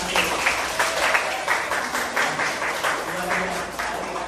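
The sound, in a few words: class applauding students of class 10 accounting 1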